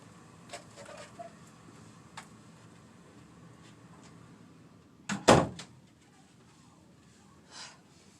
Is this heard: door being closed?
yes